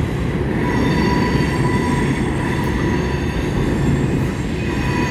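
A CSX freight train hauling high cube cars rolls past in Baltimore, a loud, steady roar of wheels and rumbling cars with faint squeals, close by and sustained the whole time.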